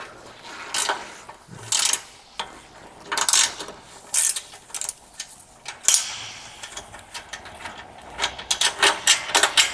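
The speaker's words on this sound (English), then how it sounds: "grab my tools, my 9/16 socket and wrench and 9/16 wrench, and I can loosen the bolts holding these shipping spreaders" A socket wrench ratchets in short, rapid bursts as bolts holding shipping spreaders on a double hydraulic PWC lift are loosened, the clicking clusters coming close and loud with brief pauses between them and no talk.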